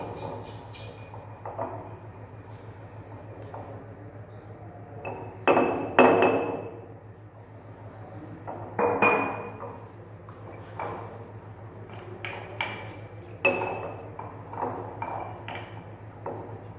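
A pestle knocks and grinds against a mortar while mixing menthol powder into ammonium chloride, giving sparse glassy clinks and taps at irregular intervals over quiet background hum.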